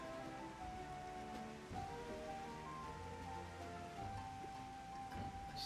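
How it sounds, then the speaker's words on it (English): Steady rain falling in the Final Fantasy XIV video game, a constant hiss of drops with soft game music tones underneath throughout, no voices. "I've arrived and it's raining."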